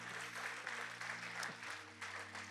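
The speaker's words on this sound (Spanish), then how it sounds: "Denle un aplauso al Señor, aleluya." Church congregation applauding during a Spanish-language sermon, a steady wash of clapping under a sustained low organ or keyboard drone, moderately distant and fairly quiet.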